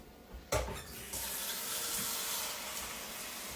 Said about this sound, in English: I'm going to run some water in this.